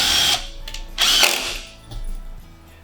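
Bursts of a power drill whirring as it drives screws through Silca Grates, two longer runs with a shorter burst between, close and fairly loud.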